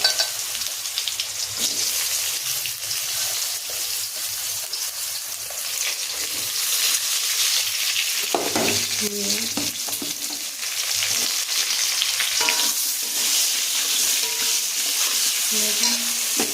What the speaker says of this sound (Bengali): এই যে বেগুনগুলো হালকা আগে ভেজে নিতে হবে।